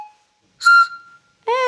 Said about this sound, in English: when you blow down it in a special way, it makes a lovely whistling noise